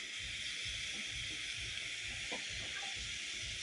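Potatoes double frying in hot oil give a steady, close hiss and sizzle with a faint crackle, continuous throughout with no talk.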